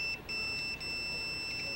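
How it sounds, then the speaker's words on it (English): Continuity beep from a multimeter as its two leads touch while testing a hot tub heater element, a faint, steady high tone that breaks off briefly a couple of times, with no talk. "for continuity, which the two leads touch and you get that beep"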